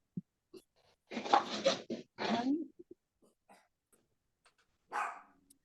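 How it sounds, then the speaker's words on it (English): An excited puppy gives a few short, faint barks in the background during an online sewing session, with a person's voice heard nearby. "Somebody has a puppy who's super excited about it too."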